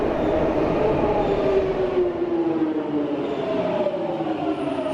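A London Underground Metropolitan line train runs in a loud steady rumble, with a gliding whine that slowly falls in pitch as the train moves along the track.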